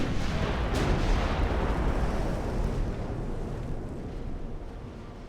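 A destroyer's guns fire in the naval warfare game Ultimate Admiral: Dreadnoughts, with 1890-era hulls: a loud booming blast near the start, then a heavy, rumbling roar that slowly fades.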